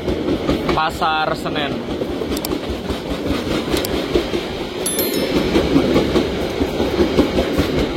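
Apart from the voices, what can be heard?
passing Gumarang passenger train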